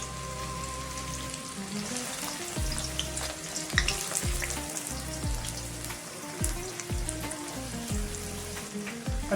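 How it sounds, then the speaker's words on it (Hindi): Chopped onion and garlic frying in hot oil in a kadhai, a dense steady sizzle with crackles and occasional stirring scrapes, close and continuous with no talking. "अभी मैं 2 मिनट प्याज लहसुन को फ्राई कर लेंगे।"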